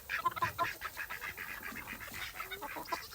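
Chickens on a family farm at evening chore time, a faint, close flurry of rapid clucks and squawks in quick succession, with light background noise.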